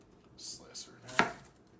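A knife cuts once through an onion on a cutting board, a single sharp thunk after a couple of soft rustles, fairly quiet and close.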